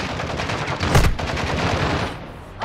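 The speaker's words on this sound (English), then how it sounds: "You are taking effective fire." Rapid automatic gunfire from the Call of Duty DMZ video game, a loud, dense burst of overlapping shots that runs nearly the whole moment with a sharp peak near the middle.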